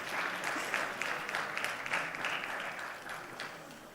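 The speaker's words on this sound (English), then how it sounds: "please let's give them another round of applause" An audience claps for a dance troupe at the opening ceremony of the JA Africa Company of the Year 2025 competition, a dense, sustained round of applause that fades slightly toward the end.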